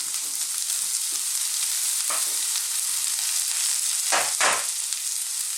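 Carrots and red onion stir-frying in a wok for a Chinese cabbage and ginger dish: a steady, bright sizzle throughout, with a few sharper scraping bursts as the vegetables are tossed near the end.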